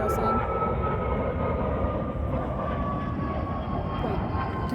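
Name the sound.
airplane flying overhead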